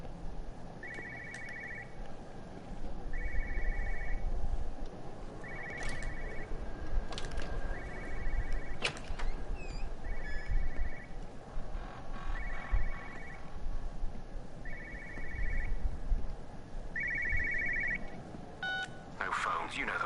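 Telephone in the game Everybody's Gone to the Rapture, ringing in a steady run of about eight short electronic trills spaced roughly two seconds apart, clear over a low rumbling ambience with occasional other beeps.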